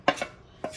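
Pan juices from a roast lamb scraped into gravy, two or three short metallic scrapes and taps of a utensil against the pan, close and brief with no talking.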